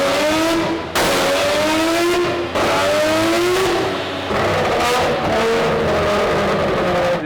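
Rotary-engined race car held at full throttle on a dyno, a loud continuous high-pitched buzzing wail that climbs steadily in pitch through repeated pulls, briefly dropping and restarting twice before screaming on to the end.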